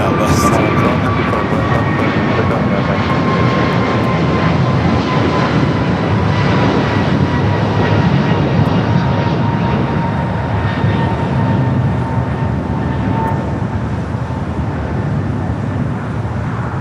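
A Boeing 787 Dreamliner at Los Angeles airport gives a loud, steady jet roar throughout, with faint tonal engine whine and radio chatter in the background.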